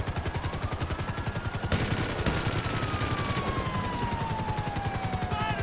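Rapid automatic gunfire from a GTA V shootout aimed at a car's tyres: a steady stream of close, evenly spaced shots rattles without pause for several seconds.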